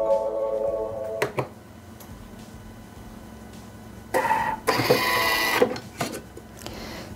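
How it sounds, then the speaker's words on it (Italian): A Thermomix bowl chops pecorino and parmesan at top speed 10 in a short, loud, high-pitched whirring grind, with clicks and clatter before it in an otherwise quiet kitchen. "e tritare per 10 secondi a velocità 10."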